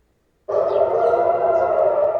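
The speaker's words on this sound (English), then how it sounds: "Air raid sirens sound in Jerusalem and Tel Aviv" A steady, sustained air raid siren tone in Israel begins abruptly after half a second of silence and holds at a constant loud level, with a low rumble underneath.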